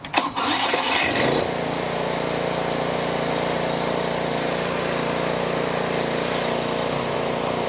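A Toro TimeMaster lawn mower engine catches after a brief burst of starting noise, then runs loud and steady at close range, with no voices.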